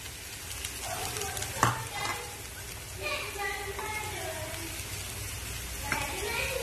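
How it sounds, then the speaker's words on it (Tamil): A steady sizzle of vegetables and potatoes frying in a pan, with scraping stirs and light clatters now and then, close by. "சேர்த்துட்டு நல்லா கிளறி விட்டுக்கலாம்."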